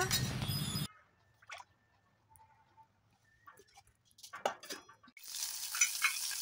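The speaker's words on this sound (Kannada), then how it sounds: "ಒಂದು ಸಣ್ಣ ಬಾಣಲೆಯಲ್ಲಿ ಸ್ವಲ್ಪ ಎಣ್ಣೆ ಹಾಕಿ, ಸ್ವಲ್ಪ ಕರಿಬೇವು ಹಾಕಿ, ಸ್ವಲ್ಪ ಸಾಸಿವೆ, ಜೀರಿಗೆ" Curry leaves, mustard seeds and cumin sizzle in hot oil in a small pan, tempering for curd vada: a loud crackling sizzle that cuts off, a quiet stretch with faint clinks, then the sizzle bursts back up.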